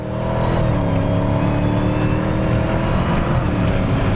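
A 2018 Dodge Challenger Hellcat Widebody driving on a track, its engine a loud, continuous deep roar with steady droning harmonics, close and dominant throughout.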